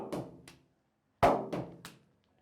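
An English willow cricket bat gets a ping test, struck in several sharp knocks that ring briefly: two close taps, a pause, then three more in quick succession.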